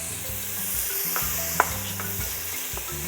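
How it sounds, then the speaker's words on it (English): Butter melting in a pot for a Trinidadian beef soup gives a close, steady sizzle while a tonal hum runs underneath and a few light clinks and one sharp knock cut through. "So now we're going to add a little butter."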